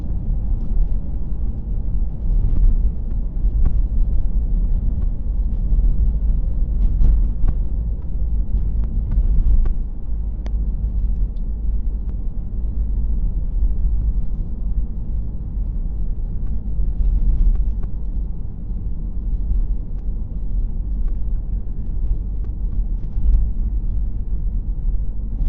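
Steady low road rumble and wind hiss fill the cabin of a 2010 Peugeot 308 SW estate on the move, a continuous broadband drone with no voices.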